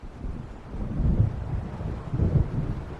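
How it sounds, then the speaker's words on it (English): Deep rolling thunder from an approaching storm in Alan Wake Remastered, two low rumbling swells over a windy, wave-washed background with no voices. "It seems there's a storm coming."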